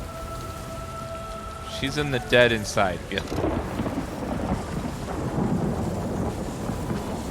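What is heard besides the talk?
rain and thunder in The Elder Scrolls Online video game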